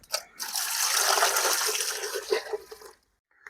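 Water is poured to soak goat legs for a village-style goat leg soup. It is a steady close gush and splash lasting a few seconds, then it stops abruptly.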